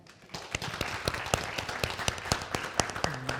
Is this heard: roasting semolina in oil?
no